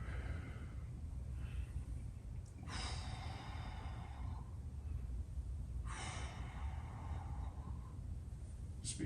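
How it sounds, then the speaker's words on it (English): Slow, audible breaths come in two long exhales a few seconds apart during a stick mobility lower-body workout, close and soft over steady background hiss. "Make sure you're breathing here."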